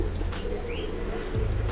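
Pigeons kept in bulk by a bird seller coo softly, low repeated throaty calls over a steady background hum, with a brief chirp partway through.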